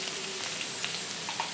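Okra frying in a pan for a fasting-day recipe, a soft steady sizzle with faint crackles, close and quiet, alone without talk.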